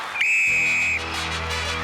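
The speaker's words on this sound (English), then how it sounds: "Challengers, you will go on my whistle." Referee's starting whistle at a 1995 Australian Gladiators TV event: one loud, sharp, sustained blast lasting under a second, followed by steady arena crowd noise.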